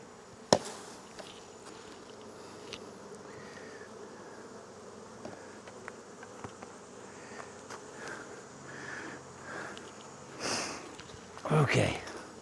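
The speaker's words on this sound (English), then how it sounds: "Bees everywhere." Bees buzz around an open beehive in a steady, faint drone, with a sharp knock near the start and louder close rustling and handling sounds toward the end.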